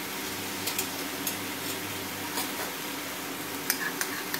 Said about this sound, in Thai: หมูเริ่มสุกนะครับเราใส่เส้นมาม่าลงไป